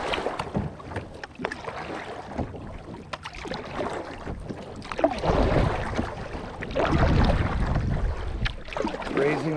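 A LiquidLogic Remix XP9 kayak spins on the water, with close paddle splashes and strokes, hull swishing, and gusts of wind noise on the microphone.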